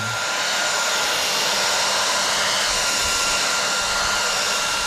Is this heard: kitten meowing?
no